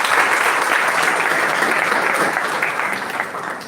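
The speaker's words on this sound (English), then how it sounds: "Let us give a big round of applause to our panelists." An audience at a college event in Pune applauds the panelists before a panel discussion. The clapping is loud, dense and sustained, with no voices over it, and fades slightly toward the end.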